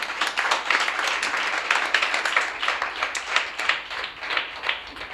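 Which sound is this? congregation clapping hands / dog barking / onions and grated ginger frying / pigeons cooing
congregation clapping hands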